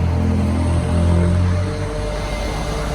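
A small 80cc motorized bicycle engine buzzes closer, swells loudly for a moment as it passes, then fades into a lower droning rumble.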